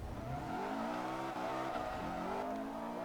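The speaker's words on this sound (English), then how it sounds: "You can hear the whine of my supercharger there." In Forza Motorsport 3, a drifting car's supercharger gives a rising and falling tonal whine over the engine roar, with layered pitches sweeping as the car slides through the corner.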